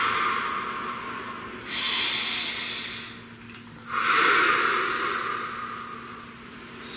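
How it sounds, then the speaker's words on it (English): A slow, deep breath drawn in and let out, audible as two long airy swells close to the listener, with soft hiss and a quiet background between them. "Please take a nice deep breath."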